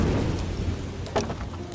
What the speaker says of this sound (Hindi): बारिश लगातार पूरे 20 घंटों तक बरसती रही।